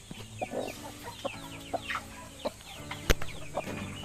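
A hen sitting on duck eggs clucks in short, agitated bursts, close and fairly quiet, with one sharper loud squawk partway through.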